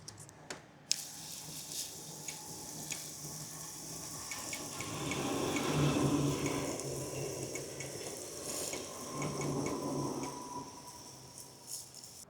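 Continuous running water, like a tap flowing, with faint clicking mechanical sounds scattered throughout, fairly quiet and close; an Aoocci C6 Pro device is nearby.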